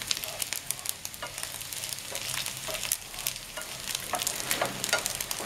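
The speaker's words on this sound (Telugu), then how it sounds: "రొయ్యలైతే వేగిపోయాయండి" Dry prawns fry in a pan, a constant crackling sizzle broken by repeated scraping strokes of a spatula stirring them, close and clear with no talk.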